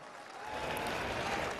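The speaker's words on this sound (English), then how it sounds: "Everyone, give a big round of applause to our player of the match in the World Cup final, Niklas Wellen." A stadium crowd at the Hockey World Cup final in Odisha, 2023, Germany versus Belgium, breaks into dense, swelling applause for the player of the match, steady and distant-sounding across the whole short stretch.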